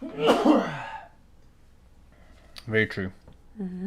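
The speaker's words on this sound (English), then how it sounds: "I gotta sneeze." A single sharp, breathy sneeze bursts out close by from someone with pollen allergies, followed by quiet and then brief conversational talk.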